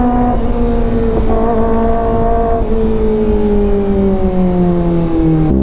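A 2023 Kawasaki ZX25R motorcycle engine revs loud and close with a high-pitched whine, blipping on quick auto downshifts and then sliding gradually lower in pitch, with no talk over it.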